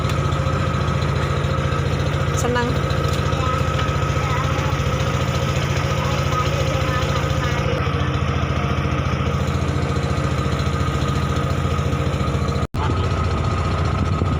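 A boat engine runs steadily on a water trip past fish cages, a continuous loud low drone lasting throughout with one brief dropout near the end, while a person speaks briefly.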